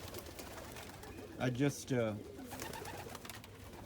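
Backyard pigeons or doves from a breeding flock coo briefly near by, mixed with a man's short spoken words.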